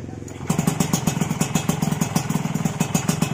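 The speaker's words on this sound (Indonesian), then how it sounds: "Kita hidupkan dulu motornya." A Yamaha RX-King motorcycle fitted with an electric starter starts and settles into a steady, rapid chugging idle, close and clear, with faint talk in the background.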